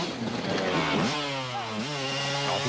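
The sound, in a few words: KTM enduro motorcycle engine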